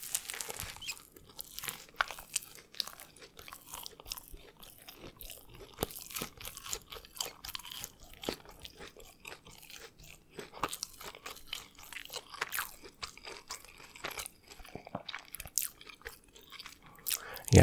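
Crunchy food from a food court is chewed close to the mic, a long run of dense, rapid crunching and biting clicks continuing steadily throughout with no talking.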